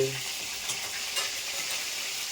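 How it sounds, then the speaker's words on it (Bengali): Pieces of rohu fish fry in a pan with a continuous close hiss and crackle, plus faint stirring or scraping sounds and no voices. "মাছ ভাজা কমপ্লিট এখন আমি কিন্তু মাছগুলো নামিয়ে নেব"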